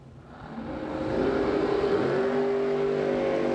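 A Camaro and a Chevy II drag race side by side at a drag strip, engines building from a rising roar into a loud sustained high-gear howl that holds steady, with no talking.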